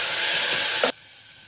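Tomatoes hit a hot pan in a home kitchen with a loud, steady hiss and sizzle that runs for about a second before cutting off sharply to near silence.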